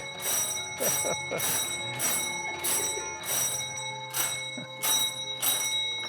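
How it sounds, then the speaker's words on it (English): An old mechanical bell rings in repeated bursts, about eight rings in a steady rhythm, loud and close, with a faint hum underneath. "Did you hear the doorbell?"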